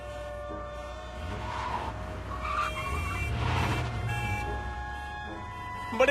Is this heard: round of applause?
no